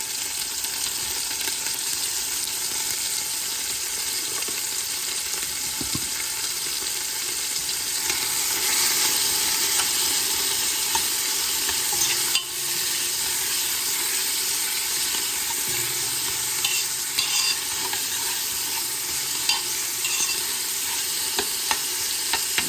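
A loud, unbroken hiss of onions searing and caramelizing in a hot pan, salted, with faint crackles and occasional stirring scrapes throughout and no talking.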